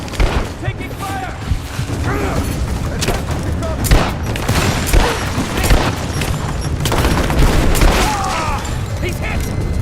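Gunfire in the Tomb Raider video game: dense, loud bursts of shots and booming impacts over about ten seconds, with voices shouting in between.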